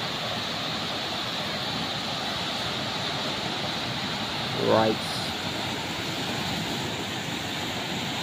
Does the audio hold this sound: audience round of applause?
no